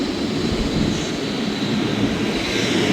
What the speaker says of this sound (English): Train is still flying away through the tunnel here.